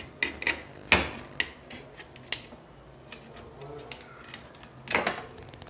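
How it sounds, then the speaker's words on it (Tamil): Crab being chopped on an aruvamanai, a traditional floor-mounted blade cutter, giving sharp cracking crunches and scraping rasps in an irregular sequence, moderately close, while a person talks. "இதை வந்து நம்ம அருவாமனையில் கட் பண்ணிக்கலாம்."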